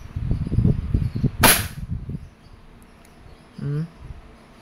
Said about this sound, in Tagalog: Wingun 702, 6 inches. Barrel airsoft revolver, single action.